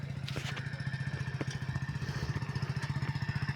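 A motorcycle ridden on the road to Vadnagar in Gujarat, its engine close and steady with a rhythmic, pulsing putter and occasional light rattles and thumps from the ride.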